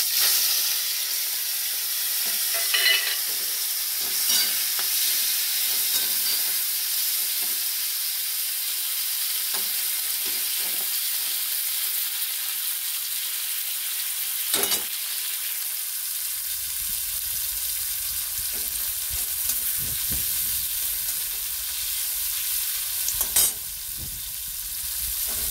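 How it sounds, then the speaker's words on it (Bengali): Prawns coated in salt and turmeric fry in hot oil, giving a continuous close sizzle and hiss with occasional stirring scrapes and pops, and a low rumble joining in during the second half. "এই চিংড়ি মাছটা আমি এই তেলের মধ্যেই ভেজে নেব।"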